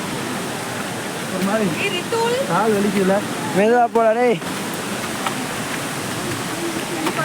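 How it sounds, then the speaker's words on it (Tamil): Paal Aruvi waterfall at Courtallam, its rushing water a loud, steady roar throughout, while a person talks briefly over it. "இது வந்து பால் அருவி. ஓகே பால் அருவி."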